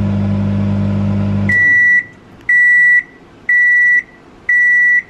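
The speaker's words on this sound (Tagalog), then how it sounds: "umiikot na yung ating talong doon sa loob ng microwave" A microwave oven cooking eggplant hums loudly for over a second, then stops and gives four evenly spaced, sustained electronic beeps, each about half a second long, close by with no voices.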